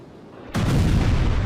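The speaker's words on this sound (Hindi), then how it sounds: "इजरायली वॉरशिप से लेबनान के अंदर हिजबुल्लाह के ठिकानों पर भीषण मिसाइल अटैक किया।" A missile launch from an Israeli warship striking Hezbollah targets in Lebanon, one sudden loud blast that roars on as a heavy sustained rumble.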